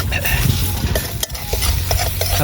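Food sizzling in a pan at an outdoor chicken feast among friends, with steady frying hiss and repeated close scrapes and clinks as it is stirred, under a brief pause near the middle.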